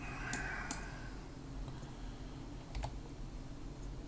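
Computer keyboard key presses made while working in TinkerCAD, a few faint sharp clicks, two early and two close together later, over a quiet room hum.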